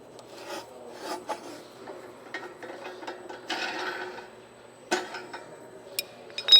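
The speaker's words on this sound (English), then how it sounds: "the first step is to remove the aluminum screw" Aluminum screw being removed from a strap dispenser, heard as close scraping, rasping and clicking metal contact in irregular bursts, with a louder rattle near the end; no talking.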